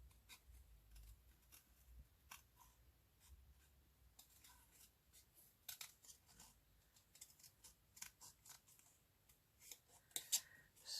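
Scissors snip through paper while a small robin picture is cut out for a Christmas collage glue book, giving quiet, irregular clipping sounds with soft rustling and a few sharper snips near the end.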